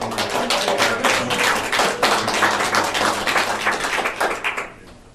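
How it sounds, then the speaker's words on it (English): A room of people at a county board meeting give a round of applause, dense steady clapping that holds for several seconds before tapering off near the end. "Give yourselves a round of applause."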